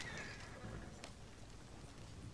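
Horses in Red Dead Redemption 2 give a whinny near the start while hooves clip-clop steadily underneath, over a continuous low rumble of movement at moderate volume.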